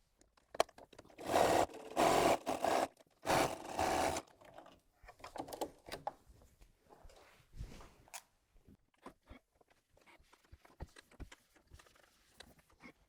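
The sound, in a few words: sewing machine joining a mini-charm cushion side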